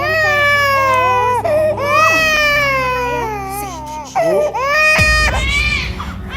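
An infant cries loudly and continuously in a home setting: long, wavering wails broken by short gasps and a sudden sharper outburst near the end, over a low background hum.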